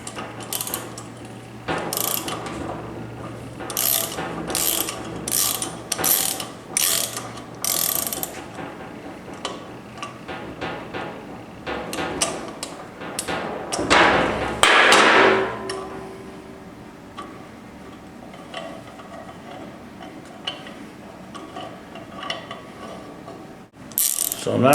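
A thread repair tool is backed out of a spark plug hole, giving a run of sharp, evenly spaced ratcheting clicks up close, then a brief louder grinding scrape and a quieter tail, with no talk.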